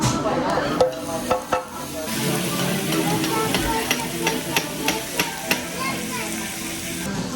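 Pork belly sizzles on a Korean BBQ grill at an all-you-can-eat restaurant in Las Vegas, a steady frying hiss with clinks of utensils and people talking nearby.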